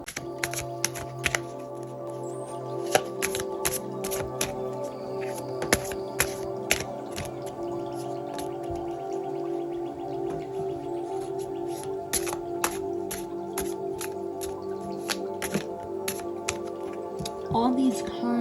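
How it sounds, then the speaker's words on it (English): A deck of tarot cards is shuffled by hand, giving a rapid, irregular run of crisp card snaps and riffling clicks over a steady low background hum throughout. "I am going to begin my reading by shuffling the cards"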